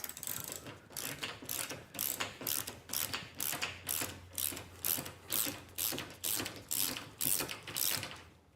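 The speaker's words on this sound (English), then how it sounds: "Now the bolts that I'm taking off, these are 9/16." A ratchet wrench loosening 9/16 bolts from a roof rack on a Ford Transit low-roof van, rhythmic bursts of close clicking repeating about twice a second with steady regularity.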